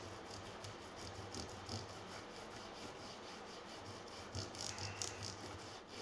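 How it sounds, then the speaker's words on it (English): Ukulele frets are hand polished with 3000 grit abrasive, giving a steady, soft, close rubbing and rasping that continues throughout with slight swells. "Once you've got all the grime off, you're basically just polishing them."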